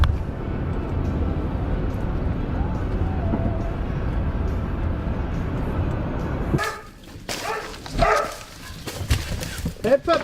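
Puppies barking in a busy indoor setting, short yips and barks mixed with people talking over steady background noise, the sharper bursts coming in the latter part.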